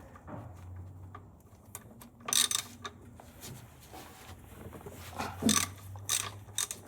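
Ratchet wrench with a long socket loosening the oil drain plug on a C8 Corvette Stingray, giving bursts of quick, close metallic clicking separated by quieter pauses.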